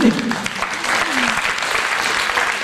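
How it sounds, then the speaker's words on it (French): Audience applause after a stage magic demonstration, a steady wash of clapping from a crowd filling the room, dense and continuous throughout. "on vous l'applaudit quand même"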